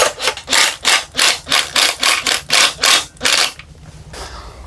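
A hand speed driver is spun rapidly to turn the transmission bolts on a 350 Turbo install in a 1964 C10 pickup, about a dozen quick rhythmic ratcheting strokes up close, then falling quiet.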